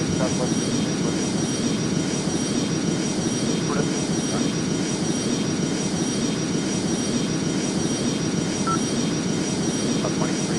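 Airbus A320 engines roar steadily on the takeoff roll in the Airline Commander game, a constant loud broadband drone with no break, while faint radio-style voices sit underneath.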